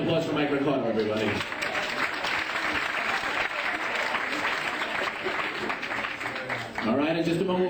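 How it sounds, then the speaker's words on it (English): An audience applauds a retiring colleague, Mike Ricardo, at a farewell gathering, with steady, dense clapping across the room and a speaking voice at the beginning and end. "Another round of applause for Mike Ricardo, everybody."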